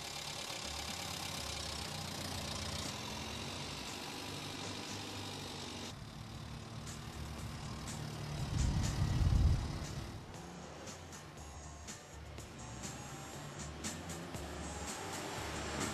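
A car engine runs steadily at low pitch as the car drives through the city, with a brief louder swell of rumble midway and constant road noise throughout.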